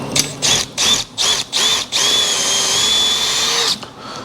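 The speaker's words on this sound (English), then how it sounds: "I'm just gonna send a drill bit down in there" Power drill running a bit down into a hole in welded metal to clear debris, with several short whirring bursts, then one long sustained whine before it stops, close and alone.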